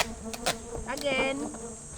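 Stingless bees buzzing around a hive during colony splitting on a farm, a steady close insect drone with several louder passes as individual bees fly near, no talking.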